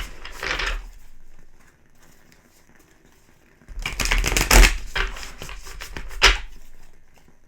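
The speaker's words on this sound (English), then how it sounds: "All right, 2 more shuffles here." Two brief bursts of a tarot deck being shuffled close by, a short riffle then a longer, louder one after a quiet gap.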